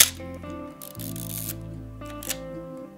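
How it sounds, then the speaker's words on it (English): Film being advanced with the lever on a Nikon FM2 film camera, heard as close ratcheting mechanical strokes with short bursts of whirring click noise, over a low steady background hum. "once you've loaded your film is you want to wind it until you see it at 1."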